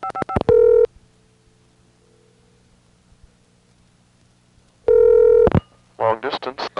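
Touch-tone dialing on a 1983 Bell 1A ESS Centrex line setting up Call Pull-In, with quick bursts of DTMF digits, a long low dial tone hum, another dialed burst and then a short fluttering switching tone.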